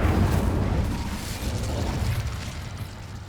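Incendio fire spell in Hogwarts Legacy, a loud whooshing burst of flame that flares up at once and then fades slowly into a rumbling crackle, with no talking.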